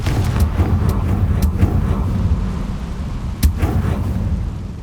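A spell blast in the Hogwarts Legacy video game: sharp explosive bursts repeat over a constant low rumbling game soundscape. One crack near the end stands out as the strongest.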